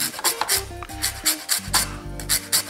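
Lemon zest being grated for a Nigerian fish curry: close, dry rasping strokes against a grater in a quick uneven rhythm, about a dozen scrapes with short pauses between them.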